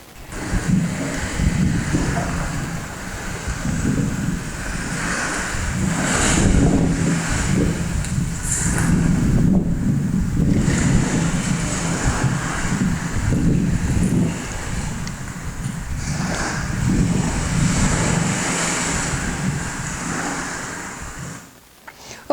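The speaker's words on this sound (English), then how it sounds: "mixed with the background noise, in this case, the noise of the sea" Soft sea noise forms a steady, broad wash of surf and wind-like rumble, continuous and fairly loud throughout, with slight swells and no voices.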